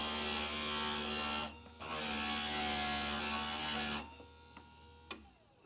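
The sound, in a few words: grinder smoothing stained glass clover piece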